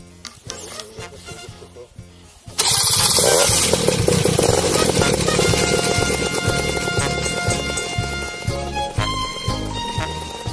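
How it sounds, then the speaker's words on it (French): A small paramotor engine sputters and catches, then roars into a loud, steady buzzing drone that holds for several seconds up close. "J'allume le moteur."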